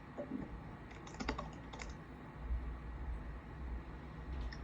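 Someone typing on a computer keyboard, bursts of quick clacking keystrokes over a low rumbling background hum, no talking.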